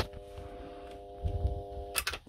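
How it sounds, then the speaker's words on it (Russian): A fairly powerful electric motor drives a generator and lights small lamps. It gives off a steady, faint hum like a transformer, with a few soft knocks and clicks near the end. "как трансформатор гудит"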